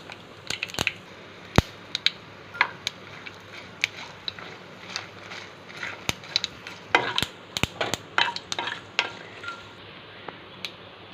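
Dried red chillies crackle in hot oil as tempering for a Tamil pumpkin buttermilk curry (poosanikai mor kuzhambu), with sharp, scattered pops and spits over a faint background hiss, close by and with no one talking.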